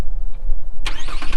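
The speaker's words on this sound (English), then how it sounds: "We're going to start it up. I'm going to hit the auto start." A 2018 GMC Canyon All-Terrain truck engine cranking via remote auto start, a brief click then a sudden loud catch into a rising idle roar, close and alone.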